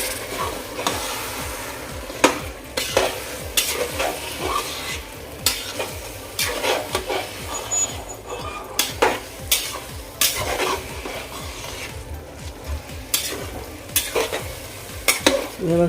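A spoon scrapes and stirs rice and chicken in a pot for green chicken biryani, in repeated strokes, with a gentle sizzle underneath and occasional metal clinks.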